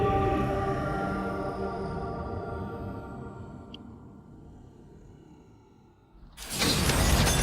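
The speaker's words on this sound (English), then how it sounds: "Once the sky starts shattering Dead Zone style" A sky shattering in the video game El Shaddai, a sudden loud crash of breaking glass that erupts after a long fading drone and quiet stretch, staying loud to the end.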